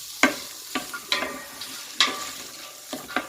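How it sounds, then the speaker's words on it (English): Diced onions sweat in real butter in a pan over a medium flame, a soft steady sizzle broken by several sharp scrapes as they are stirred, heard close and alone. "Start sweating down the onions until they're translucent."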